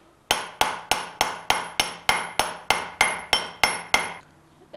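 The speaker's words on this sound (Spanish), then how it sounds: "La técnica consiste en pegarle con el cincel a la piedra con ayuda del martillo, para poder sacarle filo" Hammer driving a steel chisel against a stone grinding slab to sharpen it for milling pipián in San Pedro Atocpan, Mexico City; about a dozen sharp, evenly paced ringing metallic strikes, close and loud, no talking.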